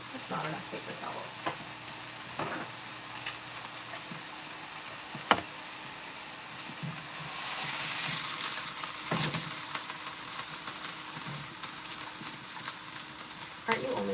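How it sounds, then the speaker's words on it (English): Steady sizzling of a burger frying in a pan, with occasional clinks and scrapes of utensils and some speech now and then. "Sizzle ASMR."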